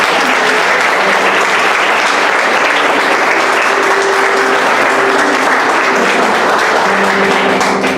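Loud, dense applause from a church congregation at a campaign service fills the room, a steady wash of many hands clapping for the whole stretch.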